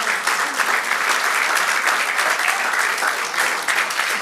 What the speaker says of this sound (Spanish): Abraham, sí, apláudele si le vas a aplaudir.